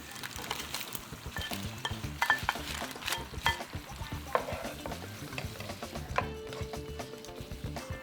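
Prawns frying in a creamy, glossy pan sauce while being stirred and shaken, with a steady close sizzle broken by repeated scrapes and clinks of the utensil against the pan.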